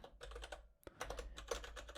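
Quick, uneven keystrokes on a computer keyboard form a short burst of clicks at close range, breaking off briefly midway before resuming, with no speech.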